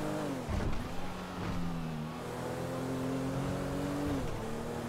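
A police car engine in a roleplay video game, a steady droning hum that rises and holds over a few seconds with a brief rev near the start, heard close under a noisy wash and without talk.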